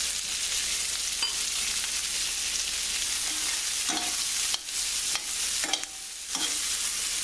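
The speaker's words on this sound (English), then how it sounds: "Just stir this up." Vegetables sweating in a pan for a beef short rib dish, a steady loud sizzle with a few scraping stirs breaking through near the end.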